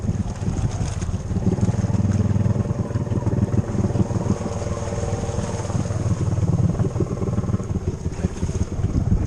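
Jeep Rubicon engine working hard on an off-road climb out with the differential locked, a loud continuous rumbling drone with wind buffeting the microphone throughout.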